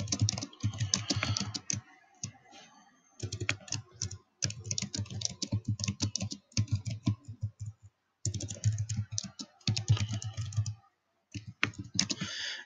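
Fast typing on a computer keyboard while entering text into a Weebly website page: close, crisp clicking in quick runs broken by short pauses, with no speech.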